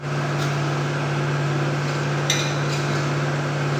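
A generator hums steadily in a constant mechanical drone through the whole stretch, close and even, with a faint clink near the middle.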